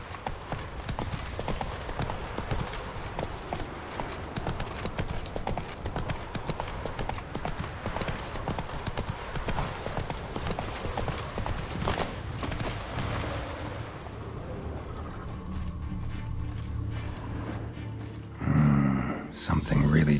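Horse hooves clip-clop in a steady galloping rhythm through The Witcher 3 game, loud and continuous, with a brief shift near the end where the gallop eases and other sounds take over.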